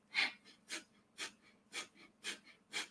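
Rhythmic breath in a guided meditation, six soft, airy inhales and exhales at an even, fairly quick pace, close and quiet against a still background.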